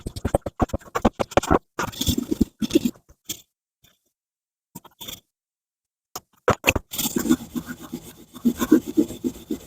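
A cast iron cowboy skillet being scrubbed by hand in close, rasping back-and-forth strokes, quick and rhythmic at first, then a stretch of near silence before the brisk scrubbing resumes.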